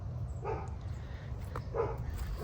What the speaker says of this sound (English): Barking dog in the distance.